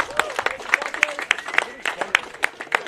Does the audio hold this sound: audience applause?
yes